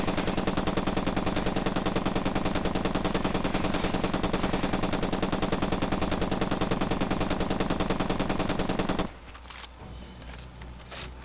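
A full magazine emptied in rapid automatic fire in Far Cry 2, a loud, steady stream of shots lasting about nine seconds before cutting off to quiet background ambience.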